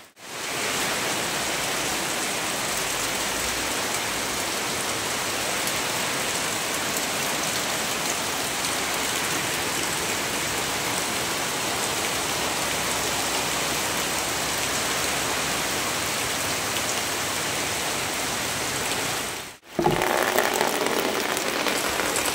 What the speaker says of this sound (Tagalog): Bahala na yung malakas na ulan guys.